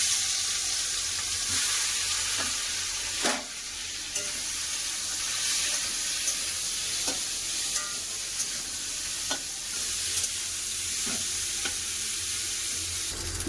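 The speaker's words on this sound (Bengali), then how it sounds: "দিয়ে দিলাম কড়াতে সরষের তেল লবণ হলদি মিশ্রা কাঁকরোল" Pointed gourd (kakrol) fries in mustard oil with salt and turmeric in a kadai, giving a steady close sizzle with intermittent scraping stir strokes throughout.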